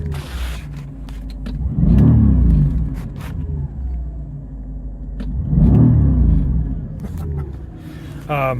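The V8 engine of a 2007 Mercedes S550 with a fault gets revved twice in idle, each rev swelling to a loud rumble and falling back, with an idle hum between and a voice briefly speaking.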